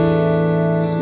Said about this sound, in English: So here's what my guitar tone sounds like completely clean.